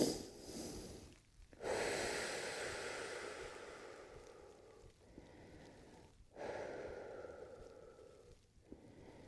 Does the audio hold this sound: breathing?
yes